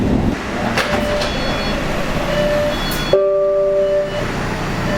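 An MBTA Red Line subway train pulls into Downtown Crossing station, its rumble steady and loud, then a tonal hum and whine rises as it slows to a stop, with no one speaking.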